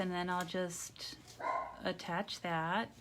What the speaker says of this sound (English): I'm sure you can hear him barking.